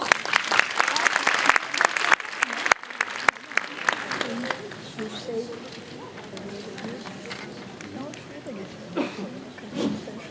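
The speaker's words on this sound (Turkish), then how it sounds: "Alkışlarınızla." Concert audience applauding at a music association's 75th anniversary autumn concert, loud dense clapping at first that thins out into scattered claps and crowd murmur.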